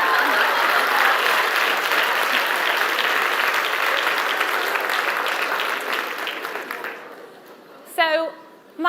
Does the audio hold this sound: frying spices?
no